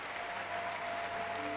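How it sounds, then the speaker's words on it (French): Audience at a 2015 church conference summit applauding together, a steady dense wash of clapping from a large crowd, continuous and even throughout, with no voices standing out. "Give the Lord another clap offering."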